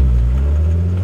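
Volkswagen Golf R32 engine with paddle-shift gearbox, a loud, deep, steady rumbling drone close by with no voices.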